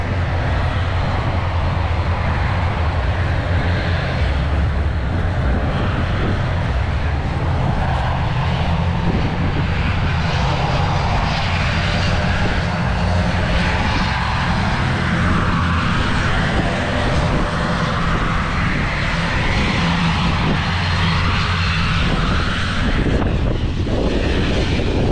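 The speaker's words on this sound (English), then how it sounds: "It's a very big plane just about to take off, I think." A large airplane near a seafront, its engines roaring steadily and loudly for the whole stretch, with a broad, constant rumble that suggests it is taking off at close range.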